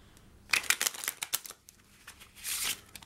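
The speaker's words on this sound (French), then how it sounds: "je vais mélanger le paquet pour encore mieux perdre votre carte" A deck of playing cards shuffled by hand during a card trick: two close bursts of riffling flutter, the first a string of quick crisp snaps, the second a smoother whirring riffle, with no talking.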